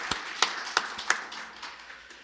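Church congregation applauding the elders during a Wednesday worship service, a handful of distinct, fairly faint claps with sparse scattered hand claps trailing off.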